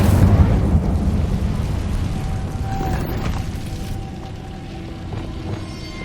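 Incendio fire spell cast in Hogwarts Legacy, a loud rumbling, roaring burst of flame with a crackling whoosh that holds steady for several seconds before easing slightly.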